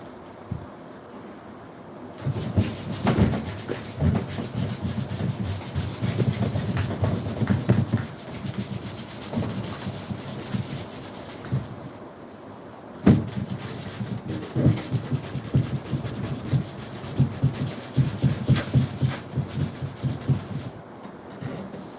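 Light grit sandpaper is worked over a part from a Lasko Ultra Force box fan in close, scratchy rubbing strokes that come in bursts, with brief pauses between the passes.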